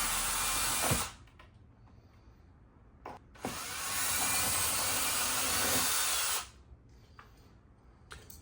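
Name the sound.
power drill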